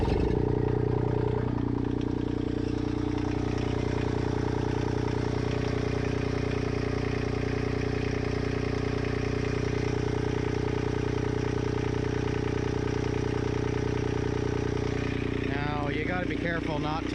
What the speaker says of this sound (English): I'm going to start the engine and see what kind of pressure the pump makes.